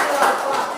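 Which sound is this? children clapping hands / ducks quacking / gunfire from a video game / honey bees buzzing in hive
children clapping hands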